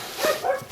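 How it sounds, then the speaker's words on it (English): A terrier gives a short, close bark or yip, with a second brief yelp close behind it, all within under a second. "It's a terrier."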